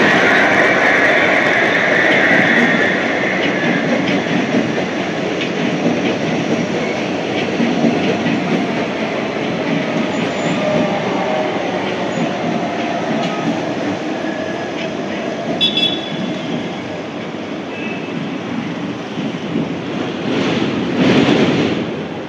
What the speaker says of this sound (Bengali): এই দেখুন, এটা কবি সুভাষগ্রামী মেট্রো।